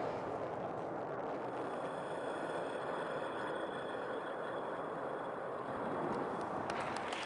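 The main engine of a SpaceX Grasshopper rocket roars as the rocket hovers, producing a loud, steady, broadband rush that stays constant throughout without voices.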